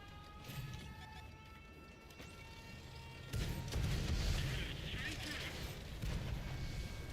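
A rocket fires from a Magach 6R tank in World of Tanks Modern Armor: a sudden heavy blast bursts out partway through, then rolls into a loud, sustained rumbling roar over the quieter battle ambience.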